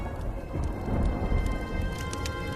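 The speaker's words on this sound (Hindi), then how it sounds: "आसमान में काले बादल छा जाते हैं और जोर जोर से बिजली कड़कने लगती है।" Steady rainfall with a low, rolling rumble of thunder swelling in the middle, continuous and fairly close, in a cartoon.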